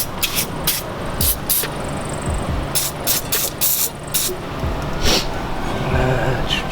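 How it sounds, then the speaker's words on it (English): Bursts of pressurized spray hiss onto a wheel hub in quick repeated blasts over a loud, steady mechanical background. "And they spray the hub too"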